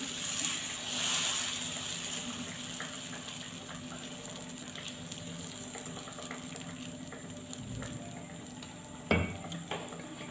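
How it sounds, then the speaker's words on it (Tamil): Dosa batter poured onto a hot griddle sizzles steadily, a faint crackling hiss with occasional light scraping clicks, quiet and continuous. "கல் நல்லா சூடானோடனே நம்ம மிக்ஸ் பண்ணி வச்சுருக்க இந்த மாவை நார்மலாக எப்போவும் தோசை ஊற்றுற மாதிரி ஊற்றிக்கலாம்"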